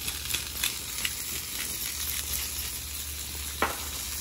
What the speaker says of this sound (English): going to put our fish in here in our hot pan